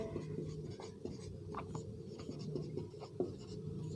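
Steady scratchy handwriting fills the clip as the arithmetic mean is written out during a Hindi maths lesson on measures of central tendency, continuous and close with small pauses between strokes.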